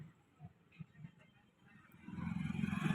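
Faint clicks and light clatter, then an engine turns over and catches partway through, its low rumble rising and holding steady to the end.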